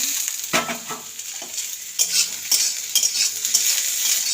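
Pointed gourd frying with onions in a pan, a bright continuous sizzle with repeated scraping stirs of a spatula against the metal, close and fairly loud, no talking.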